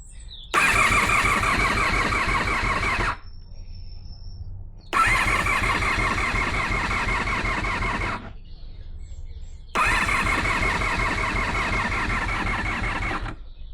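A Honda VFR400 NC30 motorcycle engine, a barn find under restoration, is cranked three times in long churning bursts, each a few seconds, with short pauses between and no catch.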